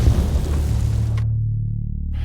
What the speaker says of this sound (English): But the answer came from outside, as now there actually was an explosion